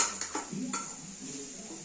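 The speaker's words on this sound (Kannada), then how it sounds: "ಚೆನ್ನಾಗಿ ಸ್ಮೆಲ್ ಎಲ್ಲ ಹೋಗೋವರೆಗೂ ಫ್ರೈ ಮಾಡಬೇಕು." Grated carrot frying in ghee for carrot halwa, a spoon scraping and clinking against the pan over a soft sizzle, brief and close, without talk.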